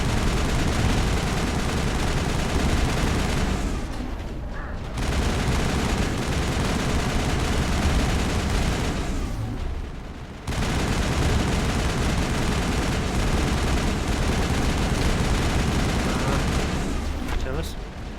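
Dense, continuous gunfire and explosions from the Mass Effect video game, loud bursts of rapid shots broken by two brief lulls, with speech present in the mix.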